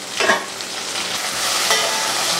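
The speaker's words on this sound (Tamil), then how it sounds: "இங்கே சாம்பாருக்கு வந்து வெண்டைக்காய் அப்படியே எண்ணெயிலே நல்லா வதங்கிட்டு இருக்குது" Okra sautéing in oil for sambar gives a brief close sizzle and crackle with a couple of stirring scrapes, steady and moderately loud, no voices.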